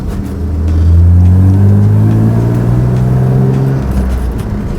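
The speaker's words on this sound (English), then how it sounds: "we have a power steering pump issue. You hear it." The engine of a BMW M3 E36 idling with a faulty power steering pump, a loud, steady low drone with a whining tone that swells slightly and then holds level.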